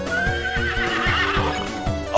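A horse whinnies in a video game, a loud, drawn-out neigh over a repeating rhythmic pattern like game hoofbeats, with no talking.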